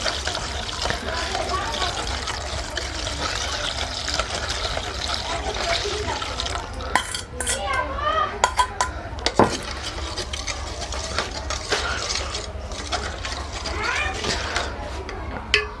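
A lye solution of caustic soda and water is poured slowly into coconut and palm oil for soap making and stirred, giving a soft liquid trickle and swishing with clinks, under a continuous low hum while a person talks.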